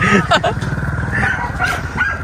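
A dog barks in a few quick, close bursts near the start, then keeps yapping more loosely over a steady engine-like rumble outdoors.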